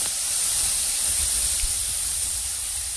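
Whole spices, including a five-spice mix and bay leaves, hit hot oil for a chana dal and sizzle in a loud, steady, close hiss with no break.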